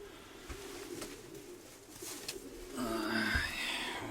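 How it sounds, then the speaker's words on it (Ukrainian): A pigeon near a nest gives low cooing calls, a soft rolling coo rising toward the end, with some faint handling noise and other birds chirping in the background. "Біля голубеньки сидить, бачите,"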